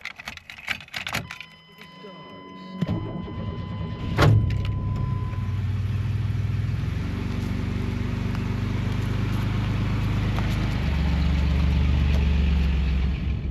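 A van starts up and drives along a road, its engine a steady low rumble that swells after an opening clatter of keys and door sounds, with a sharp knock partway through.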